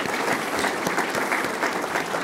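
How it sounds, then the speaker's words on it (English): Applause from an audience at a business gathering honoring a transit executive, dense steady clapping filling the whole moment without a break. "How about another round of applause for Don?"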